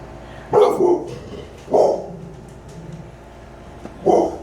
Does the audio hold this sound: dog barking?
yes